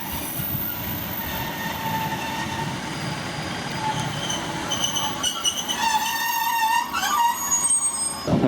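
A train arriving into Darlington station on the Stockton and Darlington line rumbles steadily from inside, then brakes and wheels squeal in rising, wavering tones as it slows near the end.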